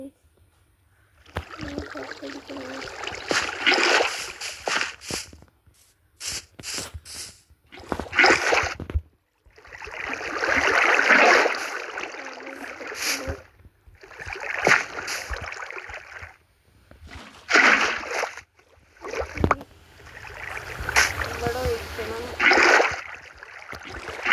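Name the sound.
water being poured, from video game Minecraft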